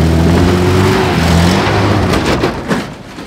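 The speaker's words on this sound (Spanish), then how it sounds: "el carro, muchacho, el carro." A car drives past with its engine revving loudly, strong low harmonics rising and falling before broadband road noise swells and fades near the end, heard close by with no talking.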